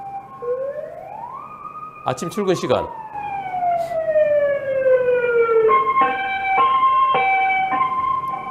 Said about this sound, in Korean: 구급차 소리 들립니다.